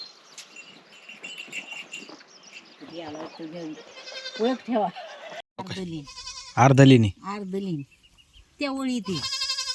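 Goats bleat in short wavering calls at a home deep in a dense forest, mixed in with people talking nearby.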